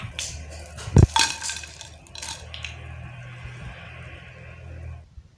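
Fried palak pakoras being dished out, with a sharp metallic clink of a utensil against a pan, then softer scraping and clatter over a low background hum, no talking.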